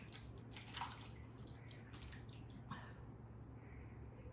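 Shepherd's pie mince mixture is poured into a baking tray, giving soft wet squelches and drips close by, quiet, with a brief cluster of splats early on before it settles.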